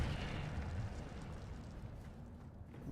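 The Incendio fire spell in Hogwarts Legacy bursts out as a low, rumbling whoosh of flame that starts strong and gradually fades, fairly faint overall.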